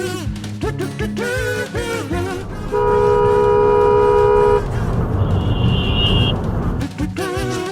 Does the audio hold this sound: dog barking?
no